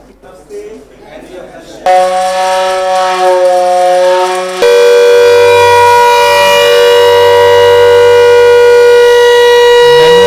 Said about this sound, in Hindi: आज इन सायरन्स की टेस्टिंग भी की गई।